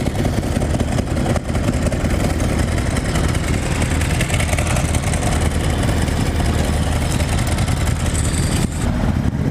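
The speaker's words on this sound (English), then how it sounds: "Hear that clutch chatter all day." A Kawasaki ZX-10R motorcycle idles with clutch chatter, a loud, close, steady engine rumble with a rough rattling texture that holds evenly throughout, with no talking.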